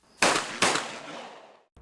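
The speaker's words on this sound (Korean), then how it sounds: "잠시 뒤 총성이 울립니다" Two loud hunting-shotgun blasts fired at a wild boar inside an apartment building stairwell, about half a second apart, each ringing with a long echoing decay, followed by a faint knock.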